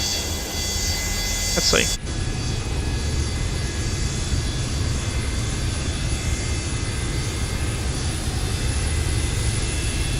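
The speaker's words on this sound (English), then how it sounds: "observe the left-hand engine starting there" In Microsoft Flight Simulator, the left engine of an FSS 727-200F freighter spools up from an external view, a steady broadband jet roar following a short rising whine. A brief spoken aside comes just before.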